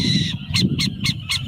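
An owl gives a rapid series of four or five short, harsh barking calls, close and fairly loud over a low background rumble.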